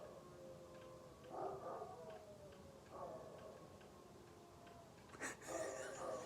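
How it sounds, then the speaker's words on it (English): Several dogs howl outside on a lawn in faint, drawn-out wavering bursts that come and go, with a light ticking in the background. "They're just out here on the lawn howling."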